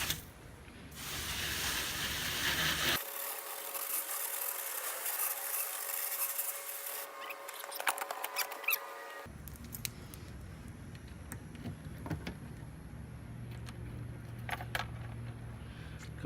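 Water sprays onto motorcycle saddlebags in a steady, close hiss and patter, broken by a short lull and then a fuller rush of spray.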